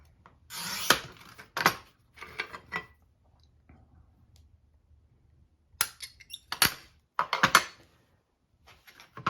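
A glass cutter with its stopper set to 1.5 inches scores pieces of fusing glass in short bursts of sharp, gritty scratching and squeaking, separated by near-silent pauses, close by.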